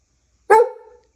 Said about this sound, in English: I can't hear you over all that barking and snaggletooth-ness.